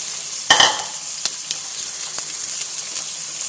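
Chicken pieces dropped into hot oil with browned onions in a pan give a sudden burst of sizzling, then a steady bright frying hiss with soft stirring clicks, close and alone.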